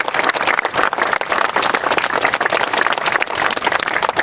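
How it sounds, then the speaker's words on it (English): A remembrance ceremony audience applauds police officers and first responders, brisk, fairly close clapping with distinct individual hand claps that rises and dips unevenly throughout. "Let's give them a warm round of applause."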